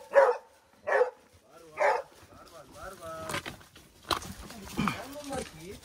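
Three loud hunting dog barks evenly spaced at the start, followed by more yelps and barking mixed with people talking nearby, during a wild boar hunt in the Mexican mountains.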